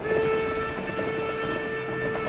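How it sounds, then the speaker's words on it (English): A train rumbles steadily toward the listener with a sustained whistle tone riding over the running noise, heard in an old 1950s western television production. "There's our train."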